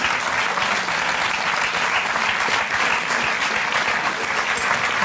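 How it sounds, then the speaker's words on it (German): Steady, dense clapping from a TV cooking-show studio audience, loud and continuous throughout with no gaps, like a full room applauding together. "liebe Zuschauer, ihr dürft klatschen hier"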